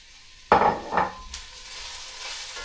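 Chopped carrots drop into a hot pan for mushroom soup with a sudden sizzle and clatter, two quick bursts followed by a continuing soft frying hiss.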